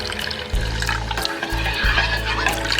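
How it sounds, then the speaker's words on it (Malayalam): Water poured into a ragi mixture in a home kitchen, a close splashing, trickling flow that starts abruptly, pauses briefly, then continues steadily. "നമുക്കിനി ഇതിലേക്ക് കുറച്ചുകൂടി വെള്ളം ചേർക്കാം"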